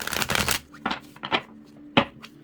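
Tarot cards being shuffled by hand: a dense burst of riffling for about half a second, then a few shorter separate shuffling rustles and taps, fairly close and with no talking.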